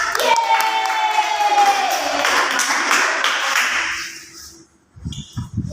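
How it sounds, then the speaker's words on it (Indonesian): A live seminar audience on academic procrastination breaks into loud, dense clapping that lasts about four seconds and then fades, with a few scattered claps and a brief voice afterward. "Tepuk tangan dulu untuk kita."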